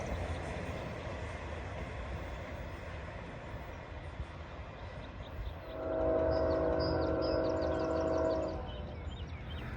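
An intermodal freight train rolls past heading north on the Greenville District, a steady low rumble of wheels and cars that swells louder partway through, with a distant horn-like tone joining near the end.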